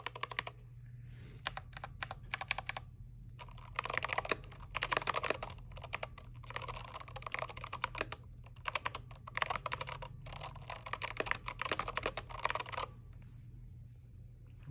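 A SteelSeries Apex Pro TKL keyboard clacks under steady typing, with bursts of quick, close key clicks broken by brief pauses and a low background hum.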